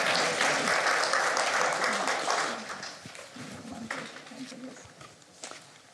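Audience in a room applauds at a talk event, a dense, steady wash of clapping that gradually thins and fades toward the end.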